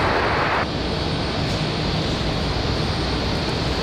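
An airliner landing on runway 23 left at Raleigh Durham International Airport on a windy day, its engines giving a loud, continuous roar with a brighter burst at the start.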